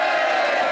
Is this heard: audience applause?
yes